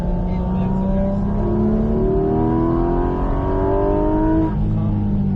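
A car accelerating on the Bresse race circuit, its engine rising steadily in pitch through the gears as a loud, close, continuous roar, with a brief dip near the end as the revs drop.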